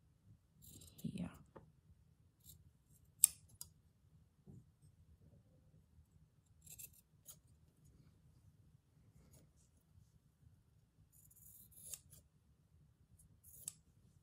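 Scissors cut fabric for a slow-stitch vintage Japanese rice bag project, making faint, close snips and crisp clicks scattered across a quiet room, with soft hushed sounds in between.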